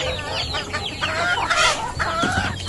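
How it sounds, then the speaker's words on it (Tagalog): Several chickens cluck and squawk together, close by and busy, with a rooster-like call rising briefly in the middle. "magpapakain muna ako ng manok"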